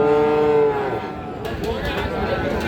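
Friesian crossbreed heifer cattle at Raniganj cattle market in Ghoraghat, Dinajpur, let out a loud, close, drawn-out moo, followed by the bustle and chatter of the crowded livestock market.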